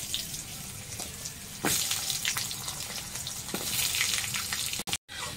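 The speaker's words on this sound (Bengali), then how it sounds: "আলুগুলো একটুখানি ভেজে নেবো লাউ শাকটা ছাড়ার আগে" Potatoes frying in oil with cumin and bay leaf for a vegetarian gourd-leaf dish, a steady close sizzle with occasional sharper spatters and scraping stirs, no speech, ending in a brief cut.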